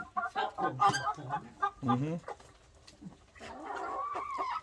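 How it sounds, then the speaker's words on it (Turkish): Chickens clucking and squawking close by while they eat scraps on a farm, busy irregular calls with a few louder cackles, mixed with quiet voices in the background. "Arkadaşlar tavuklarımız da bu şekilde karnını doyuruyor Hatice Hanım."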